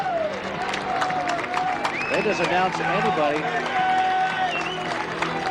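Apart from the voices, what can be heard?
stadium crowd cheering after a PA announcement at a football game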